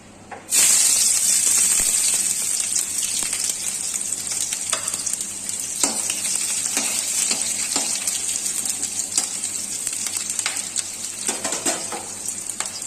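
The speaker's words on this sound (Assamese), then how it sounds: "এই আমাৰ তেলটো গৰম হৈ গৈছে আমি প্ৰথমতে পিয়াজখিনি ভাজি লম" Onions sizzle in hot oil, a loud, steady frying hiss with scattered crackles and pops that carries on without a break from just after the start, with no voices.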